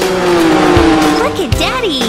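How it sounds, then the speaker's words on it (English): In an animated kids' song, a cartoon car's tires squeal as it speeds off: loud revving engine tones with rising and falling screeches that bend up and down over about two seconds, with a singing voice running over them. "Your tires screech and you take off!"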